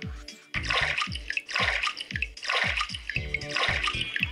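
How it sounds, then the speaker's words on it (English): Cartoonish water pours into a cup in the Vlad and Niki 12 Locks 2 puzzle game, dentist level, as four bursts of splashy filling repeat at a steady rhythm, each paired with a descending gurgle, loud and close with no talk. "Take a hot cup and fill... With cold water."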